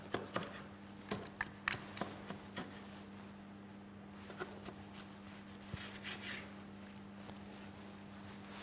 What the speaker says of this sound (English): Just roughly chop the tomato or roughly dice the tomato because we'll put it in the blender.